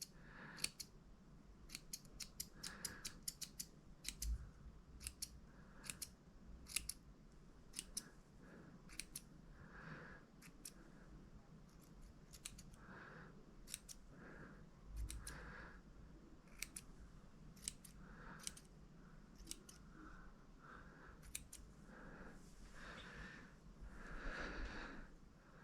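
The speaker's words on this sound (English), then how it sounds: "Let's just trim them up." Small scissors snip repeatedly while trimming the claws of a crawfish fly at a fly-tying vise, giving a series of crisp, close cuts in an irregular rhythm over a quiet room.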